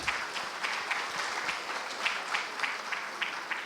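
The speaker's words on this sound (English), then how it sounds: "Applause for our dignitaries, ladies and gentlemen." Audience in a hall at a government procurement workshop applauding dignitaries, steady, dense clapping heard at a distance and fairly quiet, without voices over it.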